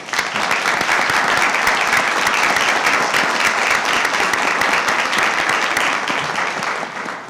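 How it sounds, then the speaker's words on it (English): A large audience at a school board meeting claps steadily in a loud, dense round of applause that holds for several seconds before tapering slightly. "Let's give them a round of applause."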